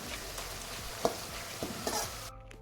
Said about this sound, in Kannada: ಈರುಳ್ಳಿಯನ್ನು ನಾನು ಹಾಕಿದ್ದೇನೆ ಇದನ್ನು ಕ್ರಿಸ್ಪಿಯಾಗಿ ಫ್ರೈ ಮಾಡಬೇಕಾಗ್ತದೆ